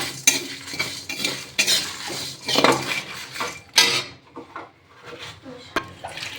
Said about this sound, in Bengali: এবার এগুলো সব একসাথে একটু ভাজা করে